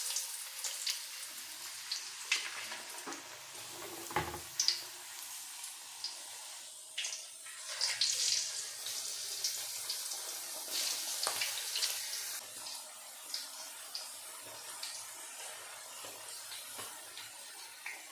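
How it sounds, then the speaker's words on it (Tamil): Potato slices frying in hot oil, giving a soft, steady sizzle and bubbling that stays faint and close throughout, with a few brief louder crackles. "இப்போ சூடான எண்ணெயில் வந்து இதை ஃப்ரை பண்ணி எடுத்துக்கலாம்."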